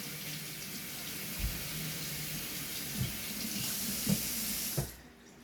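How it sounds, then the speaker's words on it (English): A bathroom tap runs steadily while hands are washed under it, a close continuous stream with a few soft knocks and splashes, ending as the water shuts off. "So let me wash my hands, y'all."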